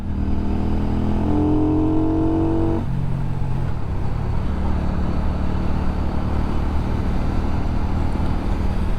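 A Benda motorcycle engine drones steadily close by as the rider short shifts, its pitch dropping at a gear change partway through and then settling into a lower, even hum with road noise underneath.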